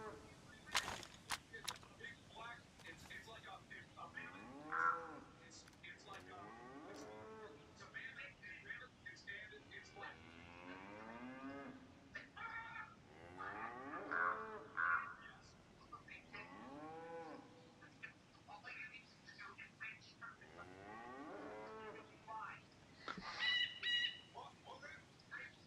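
Cows in the video game DayZ giving several drawn-out, wavering moos at intervals, each rising and falling in pitch, with a few sharp snaps and bird chirps scattered between and a voice talking over parts.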